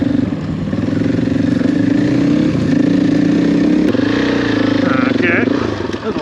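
Motorcycle on the rocky, steep Arizona BDR off-road trail, its engine droning loud and close with steady revving and a brief dip around the midpoint, mechanical clatter mixed in.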